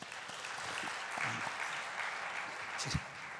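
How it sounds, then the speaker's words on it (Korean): A church congregation claps together at a Thanksgiving prayer service, a sustained patter of many hands at moderate distance, steady throughout with a brief louder swell near the end. "우리 박수 한번 하겠습니다"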